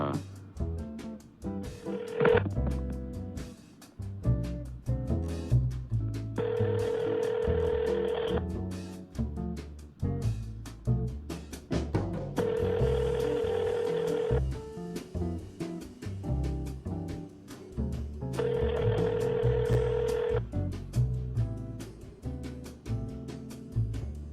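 A telephone rings repeatedly with no answer, a series of regular buzzing rings spaced several seconds apart, heard under steady background music or talk throughout.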